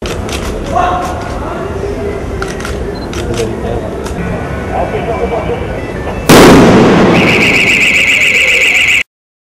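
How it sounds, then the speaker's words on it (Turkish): A bomb disposal expert remotely detonates a suspicious bag on a street in Izmit. A sudden loud blast comes after several seconds of background noise, followed by a sustained ringing tone, with a voice speaking throughout. "özel kıyafetli bomba imha uzmanı uzaktan kumanda ile çantayı patlattı"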